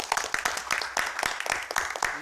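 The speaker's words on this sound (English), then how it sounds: "Round of applause for Andrew." A council meeting audience applauds a clerk who just became a father, a short burst of brisk, dense clapping from a modest crowd in a room, close and steady for about two seconds.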